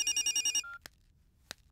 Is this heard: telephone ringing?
yes